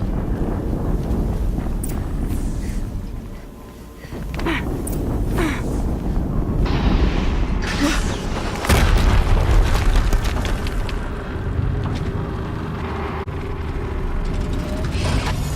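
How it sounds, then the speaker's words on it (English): Explosions in the video game Horizon Zero Dawn rumble and boom across a dense, continuous wash of game noise, with heavy low-end blasts building around the middle and lingering to the end. "Another explosion."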